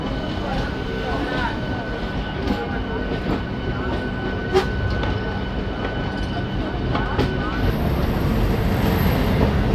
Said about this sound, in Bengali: এইবার লোকালটা ধীরে ধীরে স্পিড নিচ্ছে